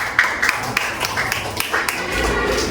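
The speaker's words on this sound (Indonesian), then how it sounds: "Tepuk tangan yang meriah." A classroom of students applauding, a lively patter of many hands clapping at once, steady and fairly close, running throughout with no talk.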